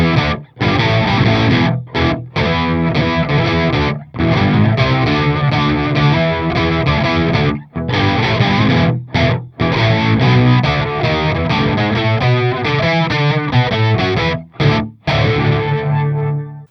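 Heavily distorted electric guitar played through a Boss MO-2 Multi-Overtone pedal, chords ringing loud with shimmering overtones, cut by several short pauses between strums.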